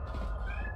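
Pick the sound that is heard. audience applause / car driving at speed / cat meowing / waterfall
cat meowing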